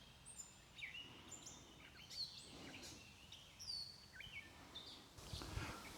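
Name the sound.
birds chirping outdoors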